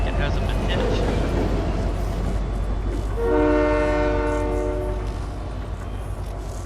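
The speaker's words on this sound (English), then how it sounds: "Let's check the train." A train in the Fortnite video game sounds its horn partway through, a sustained blast rising over constant game noise while a player talks nearby.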